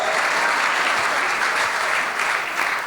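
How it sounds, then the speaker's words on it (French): Audience in a church hall breaks into loud, sustained cheering and applause, a dense wash of clapping and shouts holding steady throughout. "Ceux qui sont connectés vont acclamer pour Jésus dans cette salle"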